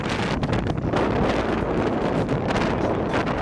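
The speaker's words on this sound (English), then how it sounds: "It was just windy and cold." Strong, steady wind buffets the microphone outdoors on a cold day in Denmark, a loud continuous broadband roar with gusty surges and no voices.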